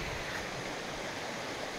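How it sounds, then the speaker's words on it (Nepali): A river stream in Syangja, Nepal flows with a steady, even rush of water that never pauses, filling the whole short stretch at a moderate level with no voices. "खोलामा आइसकेँ म त।"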